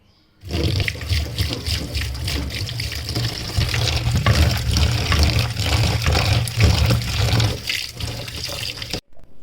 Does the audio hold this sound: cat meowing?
no